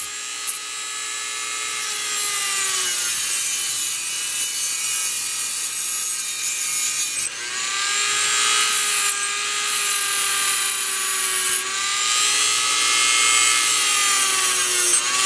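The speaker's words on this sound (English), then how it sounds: "I'll file the front end a little bit" A hand file works the steel head of a small hatchet, giving long, steady, grinding rasps that carry on for seconds at a time. Two brief pauses break the run, and the sound is close and loud with no talk.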